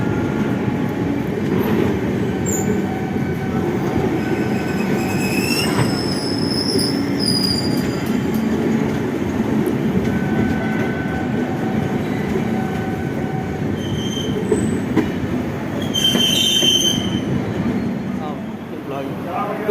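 A Humsafar Express rolls into Tundla station, its wheels letting out repeated high, thin squeals over a continuous rumble and clatter of the carriages, heard from on board.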